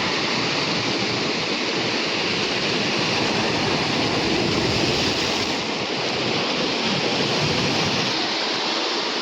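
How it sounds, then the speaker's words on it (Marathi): Large sea waves crash steadily onto the shore during sea fishing, a loud, continuous roar of surf with no voices. "ते लाटा बघा किती मोठे आहेत"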